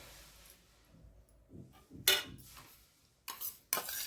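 A metal spoon clinks against a bowl a few times while chili powder, cumin and salt are spooned into a raw banana and sabudana papad mixture, sharp close taps with quiet gaps between.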